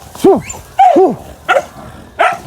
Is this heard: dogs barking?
yes